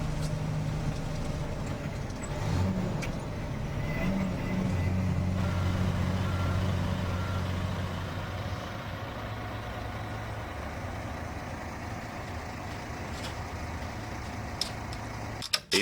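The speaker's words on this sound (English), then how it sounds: "Guy keeps the truck rolling towards an unloading point at a large timber mill near Taupo" A heavy logging truck rolls steadily toward the unloading point at a large timber mill near Taupo, New Zealand, its low engine drone constant throughout, with brief tonal whines and a few faint clanks near the end.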